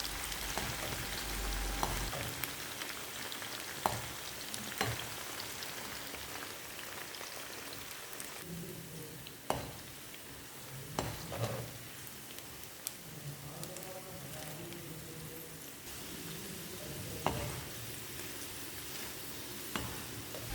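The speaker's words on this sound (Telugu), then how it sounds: "నూనె కాగిన తర్వాత పెసలు మొత్తం ఒకేసారి కాకుండా కొన్ని పెసలను నూనెలో వేసుకొని వేయించాలి" Green gram frying in hot oil in a pan, a steady close sizzle with crackling pops and occasional stirring scrapes, no voices.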